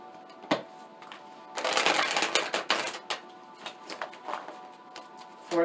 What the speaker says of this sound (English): I'm going to pull Journey of Love Oracle card.